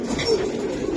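A red khaki pigeon of an old bloodline gives a soft, low coo close by, one rolling call over a faint steady background.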